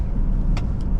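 A 2011 Volvo XC60 T6 AWD SUV on the road, heard as a loud, steady low rumble of engine and road noise over a single second, with a couple of faint hissy bursts and no talk.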